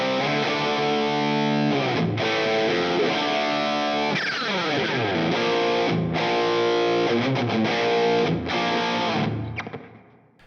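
Electric guitar played through an RD Compact Hot Rod overdrive with reverb into a JCM800-style amp, loud distorted chords and sustained notes ringing with a wash of reverb, fading out at the end.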